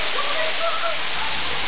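A heavy hailstorm with large hailstones falling, a dense, steady roar of ice pelting surfaces, loud and continuous, with faint voices in the background.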